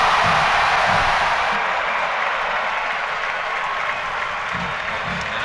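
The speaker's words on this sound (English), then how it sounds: "Crowd back to life" Football stadium crowd roaring and clapping after a touchdown at a college game between South Alabama and Troy, a dense, sustained wash of cheering heard from within the stands.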